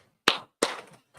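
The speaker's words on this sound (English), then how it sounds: "Clap it up, clap it up" Two sharp, close hand claps about a third of a second apart, followed by a much fainter third clap, in an otherwise quiet room.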